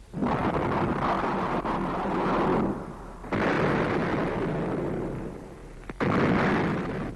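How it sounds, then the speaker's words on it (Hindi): Cannons firing from both sides during a fort siege at Kanpur, heard as a series of loud, roaring blasts with long rumbling tails, about three distinct booms spread across the clip. "दोनों ओर से तोपें चलने लगी।"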